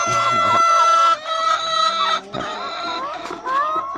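Laying hens clucking and crowing inside a coop of about thirty birds, several overlapping calls filling the space continuously with a rooster-like crow among them, close and fairly loud, no speech.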